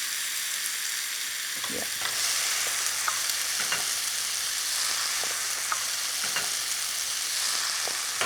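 Dal going into a hot pan starts a steady frying sizzle, with several light stirring scrapes running through it and a brief word spoken early on.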